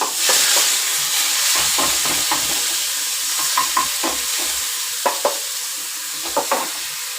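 Bay leaf, cloves, cumin and onion masala fry in a pan for a paneer capsicum dish, giving a constant close sizzle punctuated by several sharp spatula scrapes and taps as the mixture is stirred.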